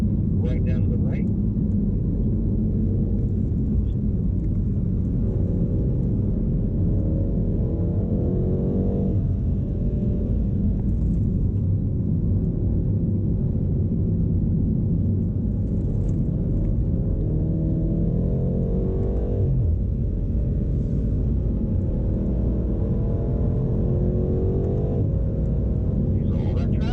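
A BMW M8 Competition laps the Circuit of the Americas on a track day, its engine a constant low rumble heard from inside the car, rising and easing as the throttle changes, with someone talking over it throughout.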